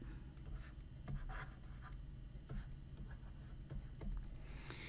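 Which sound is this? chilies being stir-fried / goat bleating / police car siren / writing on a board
writing on a board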